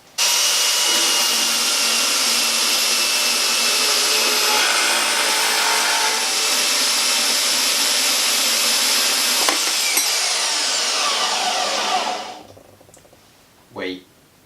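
An Aldi Workzone £150 bandsaw set up on a vertical stand cuts with a loud, steady high-pitched whir for about twelve seconds, then winds down and stops, followed by a brief knock.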